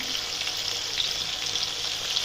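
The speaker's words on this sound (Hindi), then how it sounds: "मीडियम लो फ्लेम पे आपने इसको फ्राई करना है" Chapli kabab frying in oil over a medium-low flame makes a dense, steady sizzle that holds at an even level throughout, close by with no talking.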